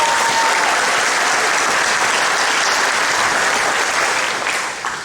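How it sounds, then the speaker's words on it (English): Loud, dense applause from a large crowd at a volunteer meeting honoring the maintenance team, continuous clapping that holds steady and begins to fade at the very end. "So another round of applause for our maintenance team."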